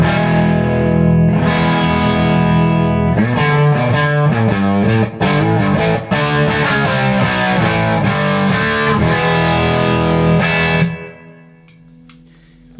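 Electric guitar through an amp with a bright, heavy-attack tone plays loud sustained chords and riffs with sharp picked accents, then cuts off and leaves a quiet ringing tail.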